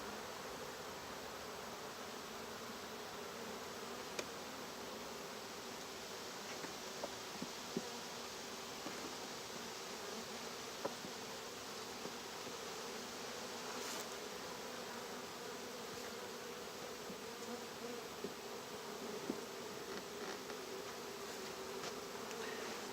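Honeybees buzz around an opened hive during an inspection, making a dense, steady drone with no distinct beats. It stays faint and even throughout, with no voices.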